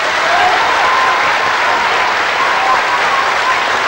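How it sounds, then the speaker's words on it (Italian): A television studio audience at a talent show applauds a contestant, a loud, dense and steady wash of clapping that holds without break from start to finish. "Allora vediamo a chi indirizzate i vostri applausi perché vinca questa puntata"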